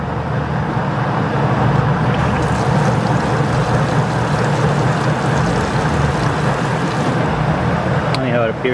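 A Kenmore compact stacked washer fills with water during its rinse cycle, giving a steady, loud rushing hiss and motor hum throughout, with someone talking over it.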